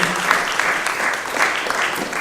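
Audience applause at an awards ceremony for young African leaders, steady dense clapping from a large crowd throughout, with rhythmic swells and no voices over it.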